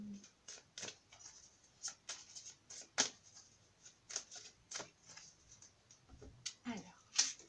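Guidance cards being handled and shuffled, a run of soft papery flicks and slaps at irregular intervals, close and fairly quiet, with a voice speaking over them.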